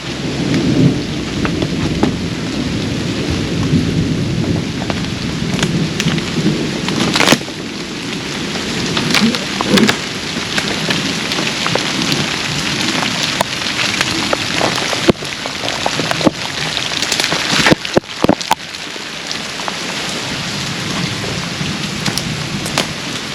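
Steady rain pours during a thunderstorm around an abandoned plantation house, with rolling thunder rumbling low and sharp cracks breaking through near the middle and again toward the end.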